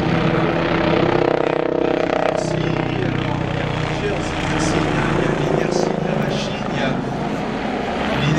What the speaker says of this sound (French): Il lance l'hélico dans une série de gyrosyles.